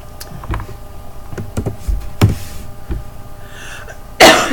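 A few short coughs and throat noises come in quick bursts over a quiet room hum, ending with a louder breathy burst.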